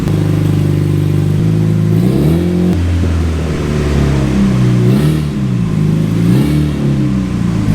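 A Honda Integra with a turbocharged B20 engine revs hard in a dyno shop, loud and close, with the pitch climbing and dropping through several throttle blips over a constant engine roar.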